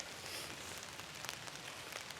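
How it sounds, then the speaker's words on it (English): Steady rain falls outside in a dense, even hiss of drops with scattered louder patters, close and continuous, no voices. "is it raining too much to do the thing outside or not?"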